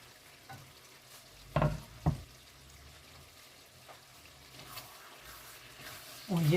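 Zucchini spread fries in a pan with garlic and chopped herbs, a soft continuous sizzle broken by a few sharp scraping stirs and clatters, and someone speaks over it.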